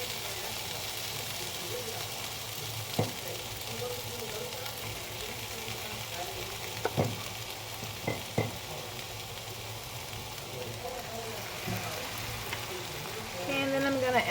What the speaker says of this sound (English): let's add our beans to these onions